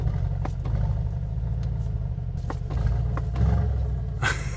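A 2023 Mercedes-AMG G63 Mansory P900 G-Wagon V8 idles with a deep, steady low rumble after starting, close and loud, with a few brief revving bursts near the end.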